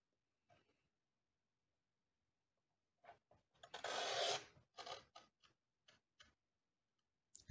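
Paper being cut for a Stampin' Up! scrapbook mini album: soft, close snips and rasps in short bursts with one longer scraping stroke in the middle, quiet and with no talking.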